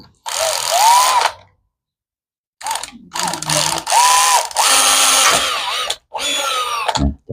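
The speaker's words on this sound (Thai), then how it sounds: "เจาะนำไปก่อนนะครับ นะเจาะด้วยดอกเล็ก" Small-bit power drill boring a pilot hole while fitting a switch housing on a Honda Dax125/CT125 motorcycle, loud whining bursts that rise and bog down in pitch, separated by brief silent pauses.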